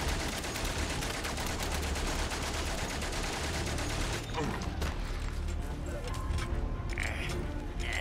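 Rapid bursts of gunfire rattle from a war video game, with dense automatic fire for several seconds that then thins into scattered shots, under occasional talk.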